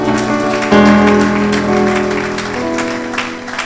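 A church congregation claps through a French-language Sunday service, the steady applause pattering over sustained organ or sung tones that shift pitch partway through.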